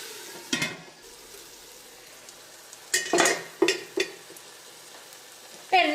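Tomato puree frying in oil for an egg curry, a soft low sizzle under several louder stirring scrapes and clatters of a spoon against the pan.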